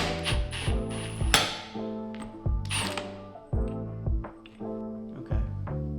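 A 7/8 socket on an impact wrench spins a fitting loose from a Jeep Cherokee WJ power steering pump. Several short rattling bursts with sharp onsets repeat in quick succession, close and loud, with no talk.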